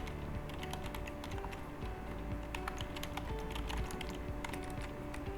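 Someone types a batch name on a computer keyboard while entering a customer receipt in Sage 300 accounting software, producing a steady run of close, rapid keystrokes without talking.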